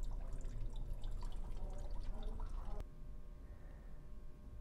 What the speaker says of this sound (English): You can see the water's coming out.